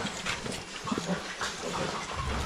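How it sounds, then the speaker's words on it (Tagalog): A pig grunts faintly in a few short, rough bursts at an outdoor spot in the Philippines, over a low background hum. "Baboy doon!"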